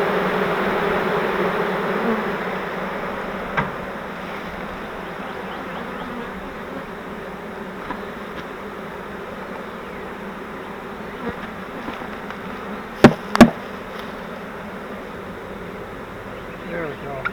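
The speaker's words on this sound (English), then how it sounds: "You might notice some bees there on the tops of the frames just fanning their little wings" Honey bees from a newly caught swarm fan their wings on the tops of hive frames, making a steady, dense buzzing drone that carries throughout, with a couple of sharp clicks near the end.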